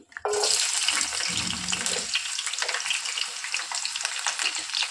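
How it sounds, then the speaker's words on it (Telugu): Finely chopped onion drops into hot oil in a kadai with a sudden loud burst of sizzling that settles into a steady, crackling fry close up, with a soft stirring scrape midway. "ఆయిల్ హీట్ అయిన తర్వాత ఇందులో సన్నగా కట్ చేసి పెట్టుకున్న ఒక మీడియం సైజ్ ఆనియన్ వేసుకోవాలి"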